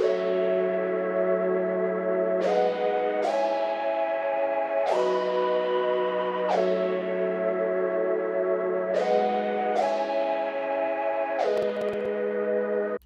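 A synthesizer pad or keys preset from Analog Lab in FL Studio plays sustained chords that change every couple of seconds, each with a soft bell-like attack and echoing shimmer, with no voices.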